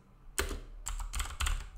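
Computer keyboard keys clatter in quick bursts of typing while entering PHP and MySQL code, close and crisp, with short pauses between runs.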